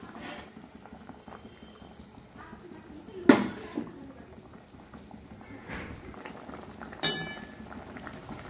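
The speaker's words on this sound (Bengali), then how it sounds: "এবারে ঝোলটা ফুটে এসছে" Hilsa fish curry broth bubbles quietly in a pot, a faint continuous simmer with a couple of sharp clinks of a utensil against the pot.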